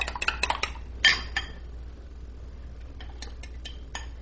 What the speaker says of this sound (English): Next, it's time to blend the eggs